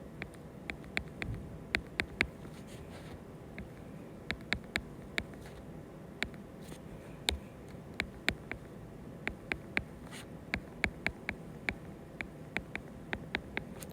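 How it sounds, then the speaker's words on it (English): Pen or pencil marks tapping and scratching on paper while numbers are written out by hand for an exponential function table, a close, quiet series of irregular light ticks over a soft background hiss. "I'm just going to write all of these out"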